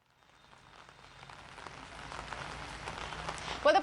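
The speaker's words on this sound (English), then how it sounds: "it seems that it's raining there" Rain falls at an outdoor political rally venue, building from a faint patter to a steady, dense hiss of drops on surfaces, with a few sharper louder taps at the end.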